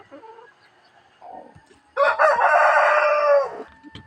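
Chickens around feeding time: soft clucks and chick peeps lead into a loud, close rooster crow lasting about two seconds, followed by quieter clucking.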